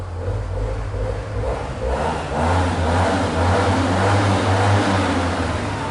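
A Yamaha T-max 530 DX scooter engine revs up to about 6,000 rpm, a loud, close, steady mechanical roar that rises and holds through the second half with no voices.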